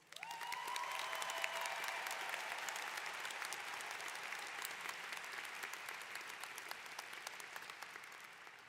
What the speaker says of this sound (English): please join me in recognizing all of the varied accomplishments of all of these amazing students graduating today with a round of applause